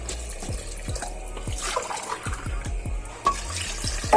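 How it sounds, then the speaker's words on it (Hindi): Water is poured into a pot of beef biryani being cooked, a splashing, gurgling flow with a run of soft plops and knocks, fairly close and without talk. "इसमें मैं अभी 2 गिलास पानी ऐड कर रही हूँ।"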